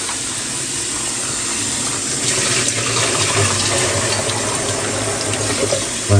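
Water runs steadily from a tap over bitter gourd (margose) being rinsed in a sink, a continuous broad splashing rush that swells slightly midway, with no talk.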